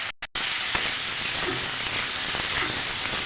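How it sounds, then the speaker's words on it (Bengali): Beans, potato and cauliflower seasoned with salt and turmeric fry in oil, making a continuous bright hiss and crackle after a brief cut-out at the start. "এবার সব সবজিগুলো আমি ভেজে নেব।"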